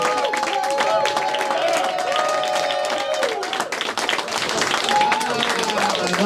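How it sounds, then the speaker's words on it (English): Audience applause at a comedy heat of a comedian-of-the-year contest at the Edinburgh Fringe, a steady, dense wash of clapping from a crowd that holds for the whole stretch, with some voices and tonal sounds mixed in. "let's keep that applause going and build it up again"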